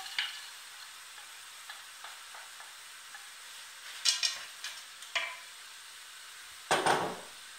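Shrimp and vegetable filling cooking in a pan over very high heat, with a faint steady sizzle broken by sharp clicks and scrapes of a utensil stirring, and one louder scrape near the end.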